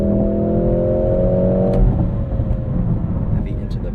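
A 2025 Mercedes-AMG GLC 63 S E Performance in race mode accelerates hard from inside the cabin, its engine tone rising strongly, then dropping at a shift into a lower, steady drone.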